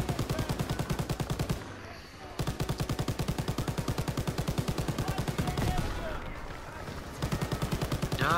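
Rapid automatic gunfire from a World War II shooter, Call of Duty: WW2, fires in long, evenly spaced bursts, loud and close, with brief pauses between volleys and a voice speaking faintly beneath.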